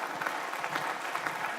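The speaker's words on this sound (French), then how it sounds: "Applaudissez à nouveau." Conference audience at a closing plenary session clapping together, a steady, even wash of many hands kept up without a break and heard from a distance in a large hall.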